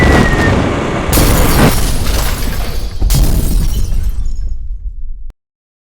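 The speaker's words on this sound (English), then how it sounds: "You telling me it blew out the suction hose?" A suction hose bursts on a Comet P40 soft wash pump, a loud, sustained blast of rushing, sputtering noise with sharp surges at about one and three seconds, cutting off abruptly after five seconds into silence.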